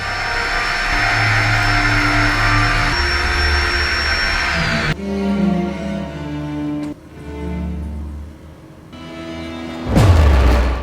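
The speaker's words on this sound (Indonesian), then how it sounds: "tiba-tiba ia mendengar kesibukan seseorang yang sedang memainkan gerinda" A power grinder runs loud and steady in a tense horror film scene set near a campsite basement, whining continuously before cutting to lower rumbling passages and ending in a sharp burst.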